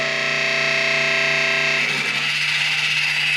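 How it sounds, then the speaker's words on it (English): A faulty drum motor gives a steady mechanical whine with strong buzzing overtones, suddenly turning rough and scratchy midway as a finger presses on it and stalls it. "you can put your finger on it, and then it actually stops the drum motor"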